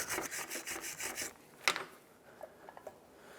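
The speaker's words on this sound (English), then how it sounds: "what you want to do is remove all the raised rust chunks so that your new hardware can seat properly." Rust is scraped off a front brake caliper bracket on a 2002-06 Toyota Camry: a quick run of rhythmic, gritty strokes, then one sharp metallic knock and a few light taps, close up with no talk.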